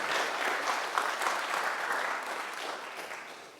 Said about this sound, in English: please give a round of applause for a man that come in here and really want to speak energy into us